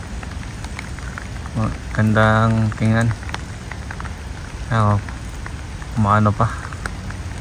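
Rain falls steadily on garden plants with small flower buds, a continuous close patter running throughout while a person talks in short bursts over it.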